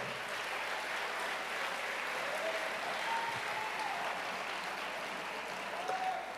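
A church congregation applauds steadily for several seconds, a broad continuous wash of clapping filling a large room at a moderate level.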